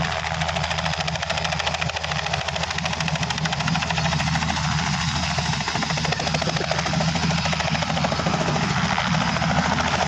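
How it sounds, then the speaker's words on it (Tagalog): Loud, continuous thudding rotor and engine roar of a helicopter flying overhead in Santo Tomas, Batangas, steady and close throughout with no other sounds. "Grabe mga service dito, mga helicopter oh."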